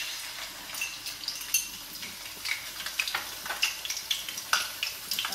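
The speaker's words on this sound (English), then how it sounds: "So my oil is hot. I'm going to start with my ginger." Ginger sizzling and frying in hot oil for Guyanese-style chicken biryani, a steady crackling hiss with sharp popping spatters and occasional utensil clinks, close and fairly quiet, no talking.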